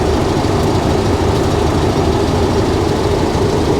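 A Suzuki Feroza engine runs at a steady idle, a loud continuous low rumble close to the microphone with no variation or talk.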